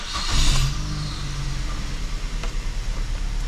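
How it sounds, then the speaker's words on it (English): 2005 Mazda 3 with a damaged transmission driving on a test run, a low steady engine drone with a rising rev at the start and a rough, pulsing rumble underneath. "That transmission does not sound good."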